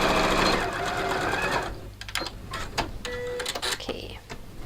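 A domestic sewing machine stitches fabric in a dressmaking session, a fast dense whirring run that stops, followed by a few short bursts and clicks as the work is adjusted, close and fairly loud.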